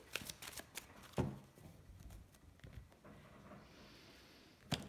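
A tarot deck is cut and shuffled by hand, with quiet, crisp riffling and slapping card sounds in irregular bursts and a final sharp snap, close and soft, with no talk.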